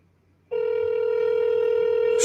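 A telephone rings with a steady electronic tone that starts abruptly and holds continuously, loud and close, with no one talking over it.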